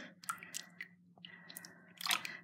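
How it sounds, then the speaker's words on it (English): Jelly soap squished by hand in a bath, soft wet squelching and crackly squishes in a few short bursts, close and fairly quiet with no talking. "here's some jelly soap"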